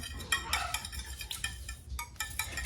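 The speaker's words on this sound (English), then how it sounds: "I'm just gonna beat my eggs slightly" Eggs being beaten in a bowl, a quick irregular run of light whisking clicks and taps, close and fairly quiet, with no voices.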